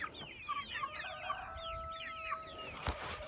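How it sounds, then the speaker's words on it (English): A flock of meat chickens with a rooster clucks and chirps continuously nearby on a farm, overlapping calls with a brief thump toward the end. "Got my big rooster in there with the meat birds"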